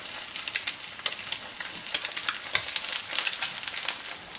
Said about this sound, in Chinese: 煎到鸡蛋的两边呈金黄色